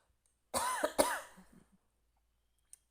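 A single person coughs in a short double burst up close, followed by a raspy trailing throat sound and then quiet.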